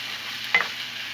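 Cut potato, carrot and cauliflower pieces dropped into hot oil in a pan, giving a steady close sizzle with one brief louder hiss and stir about halfway through.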